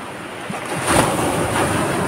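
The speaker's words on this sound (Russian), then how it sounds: "ой, видите, какая волна? Обожаю. Видите, какая волна?" Ocean waves roll onto a beach in Sri Lanka, loud and close, with a rushing surge that swells as a wave breaks, heavy wind noise on the microphone, and no talk.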